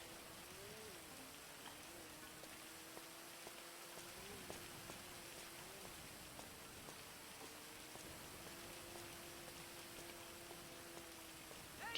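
Steady, continuous video game rain pattering on a surface, with a faint tonal melody drifting underneath; no voices, even and unbroken throughout.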